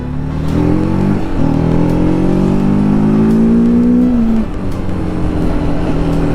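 A TVS Apache RTR 310 motorcycle accelerates hard while being ridden, its engine note rising steadily for several seconds, then dipping and settling, loud and close throughout, with wind rush underneath.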